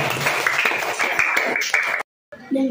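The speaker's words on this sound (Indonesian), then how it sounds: "Kasih tepuk tangan untuk Aulia." Schoolchildren in a classroom clap for a classmate, a brisk burst of many small hands lasting about two seconds before a sudden pause, then a voice resumes.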